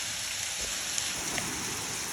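Heavy rain pours in a steady, dense hiss during a severe July thunderstorm with high winds and hail, close and continuous, with faint patters and drips standing out.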